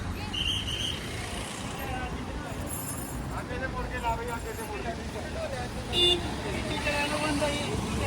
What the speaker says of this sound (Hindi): ये देखो आप, गाड़ियाँ अब जा रही हैं अंदर।